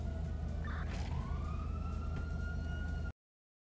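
Police sirens wail in a video game, a clear sweeping tone rising and holding over a constant low engine-like hum, then cutting off abruptly into silence.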